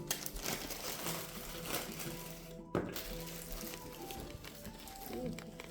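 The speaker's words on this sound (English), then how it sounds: "I've been shuffling cards my whole life." A deck of cards shuffled by hand during a tabletop game of Tales of the Arthurian Knights, giving dense papery riffling and crinkling in bursts with a sharp snap near the middle, close and fairly loud.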